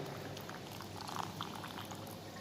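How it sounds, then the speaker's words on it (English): Soft bubbling simmer in a pan over a low gas flame as about two tablespoons of white wine go in with onion, faint and steady with small sizzling pops. "now I'm going to add in white wine, approximate is 2 tablespoons"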